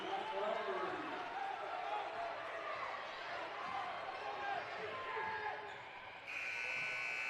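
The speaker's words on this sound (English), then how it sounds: "Luke Callahan shot at the buzzer, no good." Amid crowd noise and an announcer's voice at a Danville vs Mountainburg basketball game, a loud buzzer sounds near the end, cutting in sharply and continuing.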